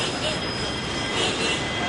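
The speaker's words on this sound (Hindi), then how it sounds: "ये आपके आंखों के सामने है लखनऊ का खूबसूरत रेलवे स्टेशन" Railway station ambience at Lucknow, a dense steady rumble of trains with squealing wheels and rolling carriages, continuous and fairly loud without a break.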